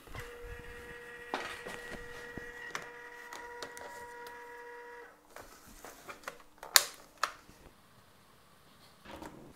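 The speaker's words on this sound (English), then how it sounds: "I use an office lettering machine then to print out the labels." Office label lettering machine printing wiring labels at a workbench, a quiet electronic whir that holds for several seconds, followed by a few clicks and a sharp cutting snap, all faint and close.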